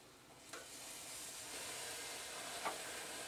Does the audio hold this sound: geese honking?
no